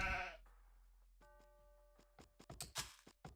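Sheep bleat in a competitive real-time strategy game match: a loud bleat opens, followed by a thin sustained tone and a run of sharp unit clicks and short game blips, with no talk.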